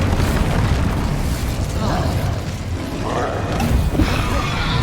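An Incendio fire spell cast in Hogwarts Legacy, a loud rumbling fiery whoosh and booms that fill the whole stretch, with faint bursts layered in.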